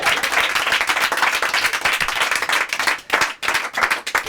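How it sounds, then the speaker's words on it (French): Audience applause at a live mentalist stage show greets a volunteer named Cécile as she comes up on stage: dense, loud, continuous clapping from a crowd that briefly thins near the end before swelling again. "Vous pouvez l'applaudir bien fort."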